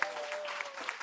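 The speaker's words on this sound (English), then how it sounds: "Give them a big applause because they're heroes." A short burst of steady applause from a conference panel audience, dense clapping with a faint sustained tone running underneath.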